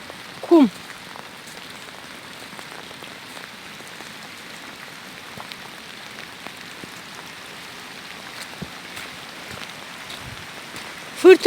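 Steady rain patters on a surface at night, runoff cutting across the roads, an even hiss of drops, with a couple of brief louder knocks near the start and end.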